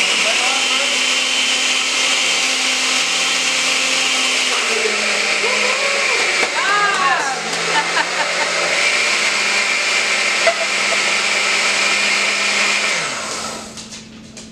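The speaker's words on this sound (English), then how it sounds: "start your blender first, pour the hot liquid in." A blender runs steadily with a constant motor whine while hot liquid for a creamy cauliflower soup is poured in, the tone shifting midway as the contents churn, ending as the motor slows at the close.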